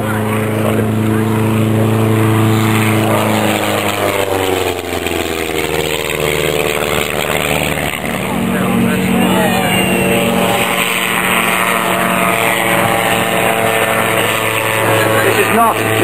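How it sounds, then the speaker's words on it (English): An autogyro at the 2010 East Kirkby RAFBF air show, its engine mounted behind the rotor pylon driving a pusher propeller, gives a loud, steady, droning hum that holds throughout. "Propulsion from this aeroplane is by an engine mounted behind the rotor pylon and pushing the aeroplane along."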